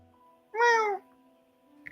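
A single clear cat meow, close and fairly loud, over a faint steady hum, followed by a brief soft click.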